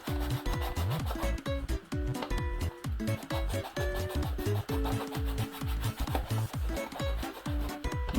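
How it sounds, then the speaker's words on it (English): A cleaning wipe rubs hard back and forth across a surface in quick, regular squeaky strokes, close and loud, with no pauses or speech. "Hopefully, one of these dead wipes will be enough to clean this"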